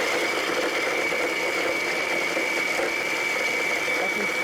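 An electric grinder whirs continuously while grinding a cup of walnuts, a loud, steady, high-pitched motor drone that holds even throughout.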